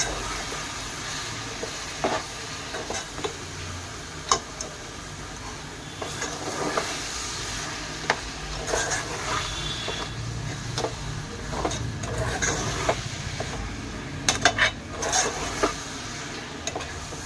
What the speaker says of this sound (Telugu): 1 స్పూన్ పసుపు, 2 స్పూన్ల కారం వేసుకొని అన్నీ కలిసేలాగా కలుపుకోవాలి.